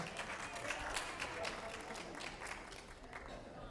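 A small group clapping and cheering indoors, a brisk patter of hands with voices mixed in throughout.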